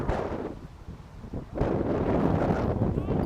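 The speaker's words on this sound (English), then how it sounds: "There is again a lot of wind." Gusty wind buffets the microphone at an outdoor men's college rugby semifinal, a steady low roar that swells louder partway through, with no clear voices.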